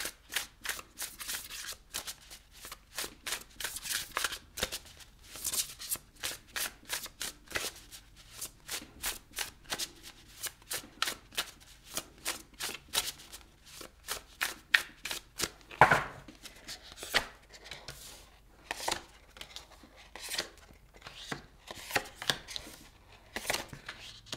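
Tarot cards shuffled by hand in a long run of quick, crisp riffling clicks and slaps, close and fairly quiet, with brief pauses between bursts and no talking.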